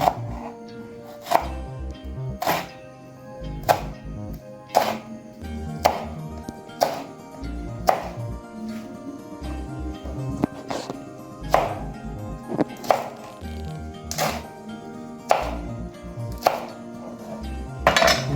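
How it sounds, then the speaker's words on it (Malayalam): Green chillies sliced with a knife on a cutting board for a prawn fry, a run of crisp, close knife taps at an uneven pace over steady background music. "രണ്ട് പച്ചമുളക് കൊണ്ട് അതിനകത്ത് സ്ലൈസായിട്ട് അരിഞ്ഞ് ചേർക്കണം"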